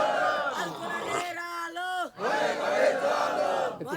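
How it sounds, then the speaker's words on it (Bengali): A crowd at an Islamic political rally chants the takbir in loud unison, a sustained collective shout with a solo voice leading between the chants. "একজন তাকবীর দেন দেখি"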